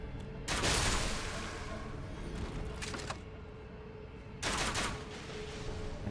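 Pulley Crossbow shots in the video game Elden Ring, a couple of loud, broad bursts of firing separated by a quieter stretch and steady background hum, no talking.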